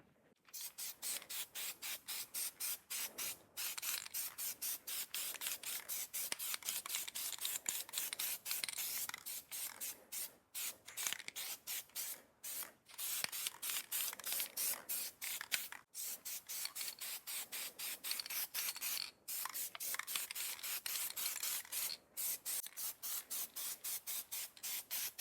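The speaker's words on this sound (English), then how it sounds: "Let's start spraying the wheel. 4 tack coats coming up." HyperDip spray coating hisses steadily from a can onto a car wheel during four tack coats, in repeated bursts separated by brief pauses, close and loud with no talk.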